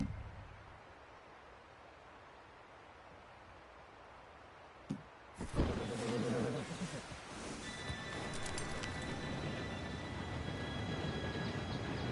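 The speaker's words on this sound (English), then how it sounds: "Train should be here any minute now." A train in Red Dead Redemption 2 rolling in after a quiet stretch, first a sharp clank, then a growing rumble and rattling wagons with high metallic squeals, with horses and voices around it.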